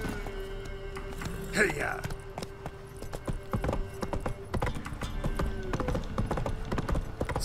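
Roach the horse being ridden in The Witcher 3 video game, hooves clip-clopping in a steady rhythm close by, with a short spoken exclamation over the top.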